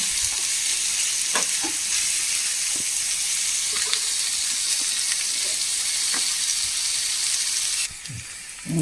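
Onion sautéing in oil in a pan, a steady loud sizzle with occasional light ticks and scrapes from stirring, dropping briefly quieter near the end, with no one talking.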